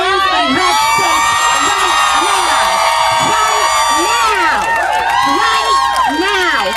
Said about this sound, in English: And they're all cheering for this.